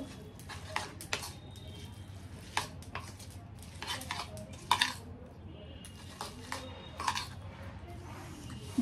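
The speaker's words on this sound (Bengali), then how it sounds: "এবার এটার মধ্যে ম্যাগিটা দিয়ে ভালোভাবে মিক্স করব।" A utensil stirs Maggi noodles in a pan with scattered metallic scrapes and clinks at an uneven pace, fairly quiet, while someone talks over the stirring.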